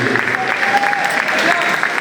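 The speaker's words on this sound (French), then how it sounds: "sous vos applaudissements, mesdames et messieurs" Audience applause at the end of the third round of a boxing match, a loud, continuous wash of clapping from a crowd with an announcer's voice over it.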